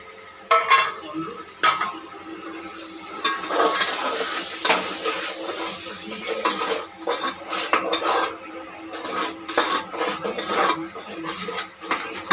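A spoon scrapes and stirs in a pan while tomato puree fries and sizzles in oil, with clinks and clatter of cookware.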